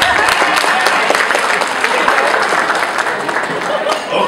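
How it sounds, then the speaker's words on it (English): Audience applauding after a dance performance, dense steady clapping that fills the room for the whole stretch, loud and close, with no individual voices standing out. "Give him a round of applause."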